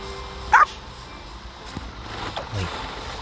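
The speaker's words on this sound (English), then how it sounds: "There's another dog." A single short dog bark from a Minecraft game, brief and fairly sharp, rising over quiet background noise with faint game sounds afterward.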